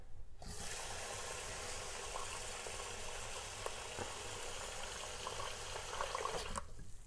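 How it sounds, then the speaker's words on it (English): Cold water runs from a kitchen tap for rinsing rice, a steady close splashing hiss that starts abruptly, holds evenly for several seconds, then cuts off. "So first I will turn on the tap water and make sure to use cold water."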